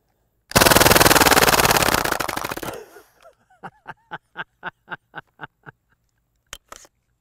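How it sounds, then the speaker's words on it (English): An Umarex mini Uzi BB gun fires full auto in one loud rapid burst of about two seconds, then a string of separate clicking dry-fire pops once the magazine runs empty. "This mini Uzi is officially licensed by Umarex from IWI, the manufacturer of the real mini Uzi."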